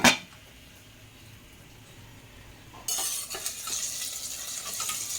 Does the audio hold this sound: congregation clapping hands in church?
no